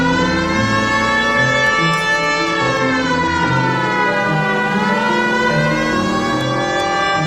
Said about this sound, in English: putting the siren on might remove the element of surprise when you're hitting left.